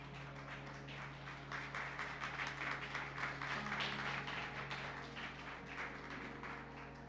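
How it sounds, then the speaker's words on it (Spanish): Applause from a church congregation at a Sunday service greeting the pastor, a fairly faint, even wash of clapping over a low steady hum. "Lo recibimos con un fuerte aplauso."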